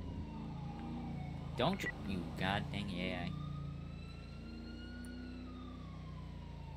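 Police sirens wail in a video game patrol, a faint gliding siren tone running steadily beneath a loud vehicle hum while someone speaks briefly over it.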